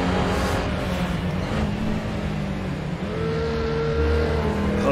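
Classic sports car engine in a VR racing game, revving loud and near at the top of the rev range, dipping briefly on a gear change and climbing again, with another car's engine audible alongside.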